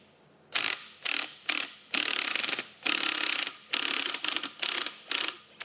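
An impact tool zaps a 17 mm suspension nut off a Tesla Model 3 in about eight sharp rattling bursts, loud and close, with short gaps between them and no talk.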